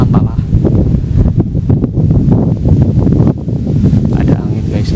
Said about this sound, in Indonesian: Ada angin guys, ini goyang sendiri asli.